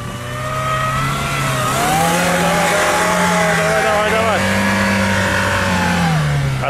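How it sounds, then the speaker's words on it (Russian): A 4x4 car revs its engine while turning around on wet snow on mud tires, the engine rising and falling in pitch loudly and close up, with strained revving swells throughout. "наша задача развернуться, этот автомобиль развернуть"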